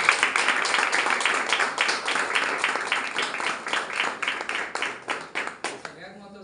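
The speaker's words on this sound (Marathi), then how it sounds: "त्यांच्यासाठी जोरदार टाळ्या." An audience claps at a business leaders' event in Kolhapur, a dense burst of applause that settles into a fairly rhythmic beat before tapering off at the end.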